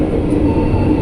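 The Argo Merbabu passenger train, nine executive carriages, rumbles steadily close by through a station, a continuous low mechanical roar with no breaks.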